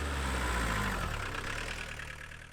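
A camper van engine idles steadily after being jump-started with a battery starter, a continuous low rumble that stays close and loud throughout, easing slightly toward the end.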